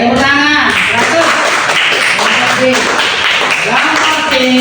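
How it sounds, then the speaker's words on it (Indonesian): Students clap together in a primary classroom after answering a geometry question about triangles, a loud, steady burst of applause with children's voices calling out over it throughout. "Oke, tepuk tangan."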